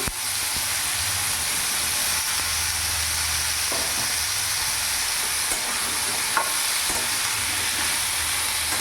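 Young, fresh jackfruit frying in a pan, stirred steadily with a constant loud sizzle and hiss, with occasional scrapes and clicks of the spoon against the pan and no talking.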